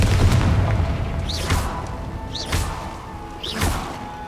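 Confringo fire spell in the Hogwarts Legacy video game, three booming explosive blasts spaced about a second apart, each with a whooshing rise, over a low rumbling game background.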